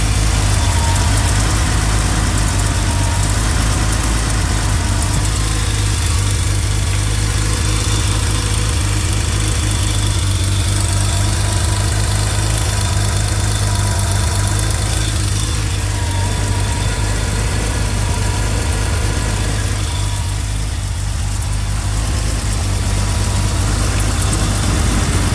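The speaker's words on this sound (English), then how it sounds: "I've got a separate microphone so that we can listen into those pulleys and belts at idle speed." A 1980s Porsche engine idling at about 750 to 800 RPM, its pulleys and belts heard up close as a loud, steady, even hum and whir that keeps going with no voices.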